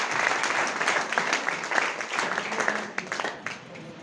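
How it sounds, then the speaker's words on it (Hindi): Applause from an audience at an RCM business talk, a steady wash of many hands clapping throughout, fairly loud and dense. "तो मैं एक बार तालियां चाहती हूँ अपने मेंटर अपने गुरु के लिए, रेवण कुशवाहा जी के लिए"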